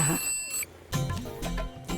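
A telephone rings in short repeated bursts, loud and close, with some background voices around it.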